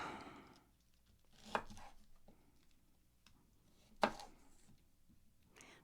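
A knife slices the butt end off a vegetable on a cutting board in a quiet kitchen, two sharp close chops about two seconds apart with soft handling sounds between.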